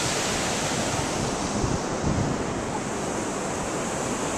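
A river rushes steadily in a broad, constant roar of flowing water, loud and unbroken, with wind buffeting the microphone.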